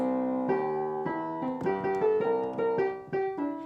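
Piano notes played alone in a short melodic phrase with quick grouped notes, clear and close, each note decaying gently.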